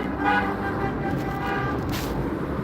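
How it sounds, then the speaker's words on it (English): A car horn honks outside, a sustained toot heard over steady road and traffic rumble, fairly loud and near. "What are you honking at?"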